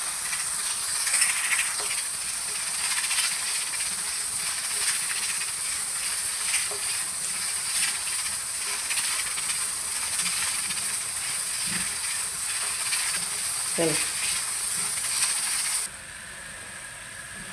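Bitter gourd (karela) pieces fry in a pan until golden, giving a steady, fairly loud sizzling hiss that runs without pause and drops a little quieter at the very end.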